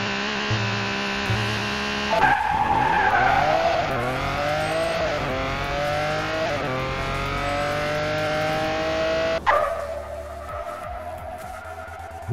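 Cars drag racing on an industrial zone track in the DragBattle video game, with loud engines revving and rising through gears alongside tire squeal, a steady roar that climbs in pitch repeatedly before cutting to a lower drone near the end.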